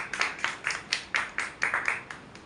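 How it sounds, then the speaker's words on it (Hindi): An audience at a stage performance of Premchand's play Kafan claps for the actors, about a dozen crisp claps in a steady rhythm from what sounds like a small group, with no voices over them. "एक जोरदार ताली हमारे कलाकारों के लिए हो जाए।"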